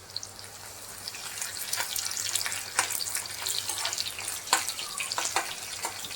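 Garlic hitting hot oil in a kadhai gives a steady sizzle with scattered sharp crackles and pops, close and fairly quiet, with no voices.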